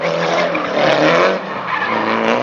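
An SR20-powered, 360-horsepower Nissan S13 drift car slides through a qualifying run at a drift event. Loud, close tire screech blends with engine roar, swelling and easing over a couple of seconds.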